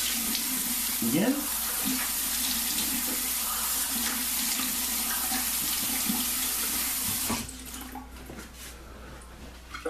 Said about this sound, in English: Little water rinse again.